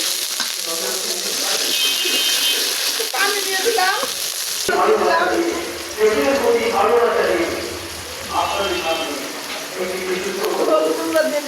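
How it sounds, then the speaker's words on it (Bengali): Loud sizzling and spattering as water hits a hot pan of egg curry with potato and tomato, with stirring scrapes and a person talking over the frying noise. "পানি দিয়ে দিলাম"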